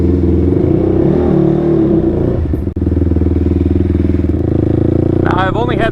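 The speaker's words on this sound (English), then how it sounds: "I've only had this thing idling in the garage and given it a few wraps of the gas" A TRX engine after a cam upgrade, idling loud and close with a rapid, lumpy pulsing beat and a brief dip in the middle, then settling back into a steady idle. A voice comes in faintly near the end.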